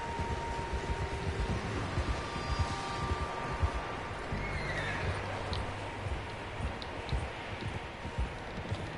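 Horses in the game Red Dead Redemption 2 near a lakeside camp, with steady hoof clip-clop and occasional faint whinnies over a constant outdoor ambience, no talking.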